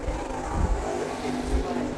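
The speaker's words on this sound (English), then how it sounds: "As the number 4 of Ryan Smith's going to hit the throttle down on the backstretch, makes his way through the middle of 3 and 4." A race car accelerates hard down the backstretch at Lake Cumberland Speedway during American All-Star Series qualifying, a steady loud engine roar with low rumbling surges, heard alone without talk.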